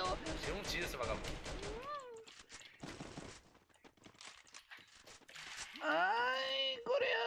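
Sharp bursts of Free Fire game gunfire crackle among shouted, excited talk, with a sudden loud blast near the end.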